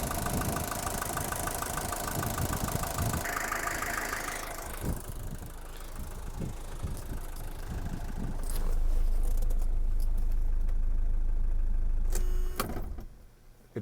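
A 1977 Mercedes-Benz 240D W123 diesel idles steadily with a rough, low clatter, then shuts off quickly near the end and leaves a brief quiet tail.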